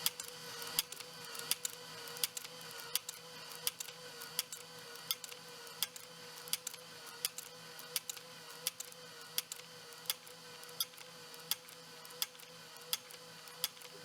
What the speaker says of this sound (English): The printer wakes up after its long sleep.